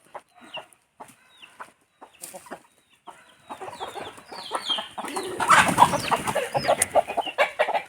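Free-range village chickens, some sick with fowl pox, cluck and squawk, sparse at first and then building into a busy, overlapping flock chorus that grows louder toward the end.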